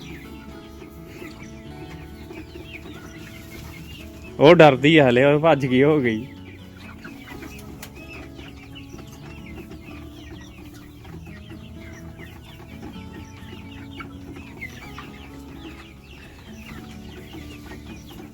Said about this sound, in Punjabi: ਮੈਂ ਮੁਰਗੇ ਹੀ ਮੁਰਗਾ ਘੁੰਮ ਰਿਹਾ ਉਰੇ